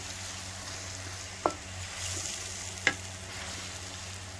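Food browns in a frying pan with a soft steady sizzle, broken by two sharp utensil clicks against the pan, close and moderately quiet.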